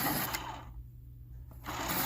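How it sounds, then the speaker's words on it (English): A Prismacolor colored pencil being sharpened in a loud electric sharpener, a steady whirring grind that drops off briefly in the middle, then resumes, close and alone. "Sorry about the noise, I'm trying to sharpen it just a little on every side so I don't break it."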